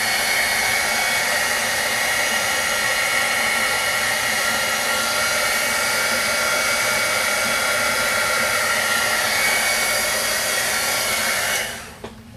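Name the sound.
heat tool drying stamped ink on a craft piece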